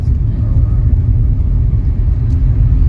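A car driving along the NH1 highway near Srinagar on a road trip from Kolkata to Ladakh, heard from inside as a loud, steady, low road and engine rumble.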